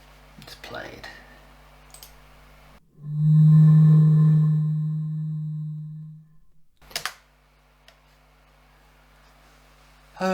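A sustained synthetic hollow tone, like air blown across a bottle, swells loudly for about three seconds then fades, with quiet clicks before and after.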